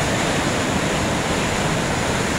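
The flooded Rapti river in Hetauda surges against an embankment near a bypass, producing a loud, dense, unbroken roar of rushing water with no pauses or voices.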